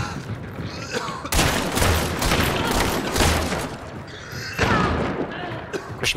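Rapid video game gunshots in bursts of fire, loud and close, with a short lull before another volley, amid in-game noise and voices.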